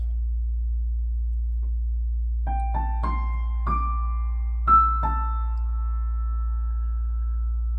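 Sparse piano notes centered on A ring out one after another, six soft tones that step gently upward and linger, the last one sustaining calmly over a low steady hum.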